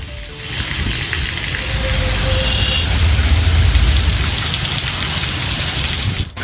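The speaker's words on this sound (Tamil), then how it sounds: "காஞ்சிபுரம் மற்றும் சுற்று வட்டார பகுதிகளான வாலாஜாபாத் ஸ்ரீபெரும்புத்தூர் உள்ளிட்ட பகுதிகளிலும் கனமழை கொட்டியது" Heavy rain pouring down in the Kanchipuram area, a dense, loud, continuous hiss of rainfall on surfaces that swells slightly midway and holds steady throughout.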